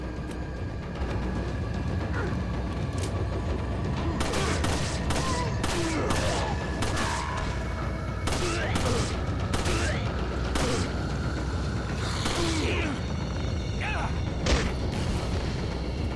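Pistol gunfire in the Resident Evil 4 video game comes as a series of sharp shots in irregular bursts over steady game background noise, loud and close.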